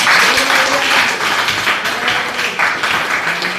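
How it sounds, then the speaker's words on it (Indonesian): An audience in a teacher-training college classroom claps steadily for a few seconds, a dense, close patter of many hands without talking. "Tepuk tangan."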